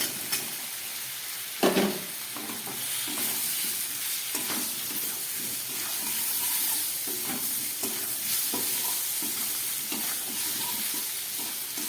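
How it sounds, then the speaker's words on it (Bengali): Pumpkin and fried potato cooked with spices in a pan, a constant loud sizzle and hiss of frying under repeated scraping strokes of a spoon stirring through the vegetables, close and continuous with no talking. "খুব ভালো করে এবার আমি মিশিয়ে নিচ্ছি, সঙ্গে দিয়ে দিচ্ছি ভেজে রাখা আলুটা"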